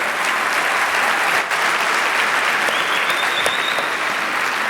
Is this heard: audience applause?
yes